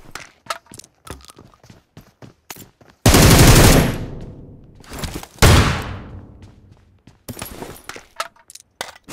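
Gunfire in PUBG Mobile, sharp single shots scattered throughout with two long, loud bursts of automatic fire, close and dominant, with no talk.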